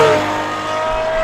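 An Aston Martin Valkyrie with its V12 engine roars by on the road, a loud, sustained high-pitched engine note lasting about a second.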